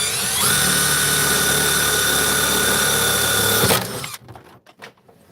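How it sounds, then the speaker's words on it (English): A power drill whines loudly and steadily for nearly four seconds drilling a hole in a tough printer rail, then winds down and stops, leaving faint handling noises. "now we'll use this to drill the hole"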